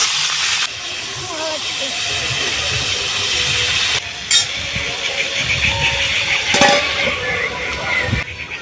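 Potatoes and tomatoes with a pinch of cumin, salt and turmeric fry in a pan over low heat, giving a steady close sizzle with stirring scrapes and a brief lull around the middle.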